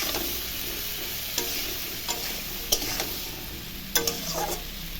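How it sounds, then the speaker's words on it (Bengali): Vegetables frying in a pan give a steady close sizzle, broken by a few sharp scrapes and clicks of a spatula as they are stirred. No voices are heard. "সবজিটা ভালো করে ভাজা করব। ভাজার জন্য ভালো করে নাড়াচাড়া করে একটু ঢাকা দিয়ে দেবো।"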